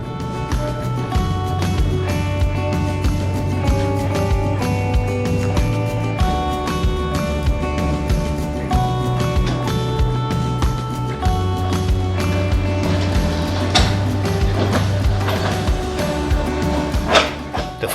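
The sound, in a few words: trolley car running on rails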